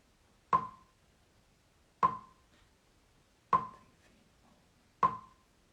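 Four sharp, evenly spaced metronome clicks about one and a half seconds apart, crisp and close against near silence.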